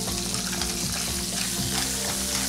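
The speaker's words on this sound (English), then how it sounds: "we're just gonna get that sauteing just a little bit" Fish, clams and black mussels saute in a hot pan with a steady, dense sizzle and crackle, close and continuous, with occasional stirring scrapes and no talk.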